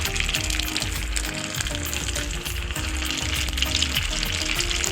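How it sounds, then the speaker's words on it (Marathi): Bread rolls stuffed with potato frying in hot oil, a steady, loud, dense sizzle and bubbling that holds evenly without a break. "हे आपले रोल तेलात सोडायचे आहेत"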